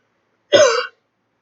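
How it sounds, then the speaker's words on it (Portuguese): A single short, rough cough or throat-clear from a scratchy throat, sharp and close, standing alone in silence and lasting under half a second. "o tererê me deixa minha garganta um pouquinho arranhando, por isso que eu fico tossindo toda hora"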